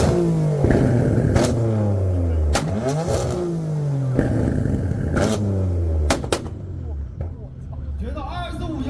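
A BMW M4 revs hard in a rev battle, rising and falling engine bursts with sharp exhaust pops repeating several times, loud and close, with people talking over it.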